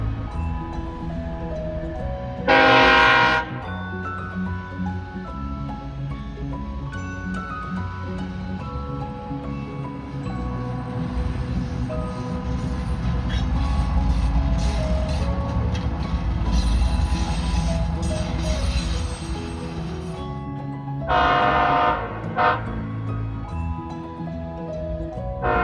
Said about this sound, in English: Check out the conductor as he helps the engineer guide the locomotives backwards.